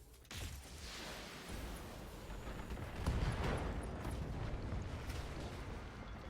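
An ammo explosion in the Battletech video game sets off a dense, rumbling roar of blasts and crackling debris that lasts several seconds, swelling midway and staying loud without a break.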